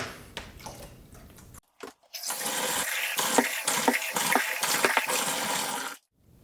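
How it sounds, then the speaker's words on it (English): Dish soap is squirted into a basin of water for soaking trumpet parts, a brief splash first, then a sustained wet, squishy gush for several seconds up close before it stops. "So now, let's add some soap."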